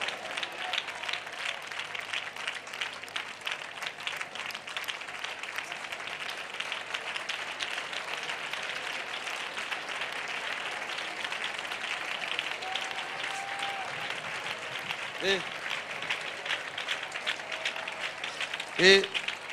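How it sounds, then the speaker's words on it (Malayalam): Congregation applauding inside a church, a steady dense patter of many hands running throughout at moderate level, with a preacher's voice occasionally cutting through. "നിങ്ങൾ ഈ കൈയടി അങ്ങ് നിർത്തു"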